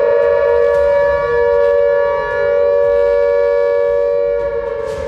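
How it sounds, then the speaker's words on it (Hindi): An air raid war siren in Khyber Pakhtunkhwa, Pakistan, wails a loud sustained steady tone with layered harmonics, holding nearly level with a slight dip midway, and no voices over it. "वॉर सायरन लगाने का आदेश दिया, जिसके बाद खैबर पख्तूनख्वा के कई शहरों में सायरन्स की आवाज गूंजने लगी"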